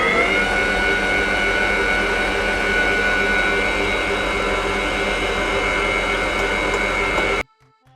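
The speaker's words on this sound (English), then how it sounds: "we're just going to put it into the mixer bowl and beat it really fast" A stand mixer beats chilled vegan butter at high speed, a loud, steady motor whine and whir that runs nonstop, close by, before cutting off abruptly near the end.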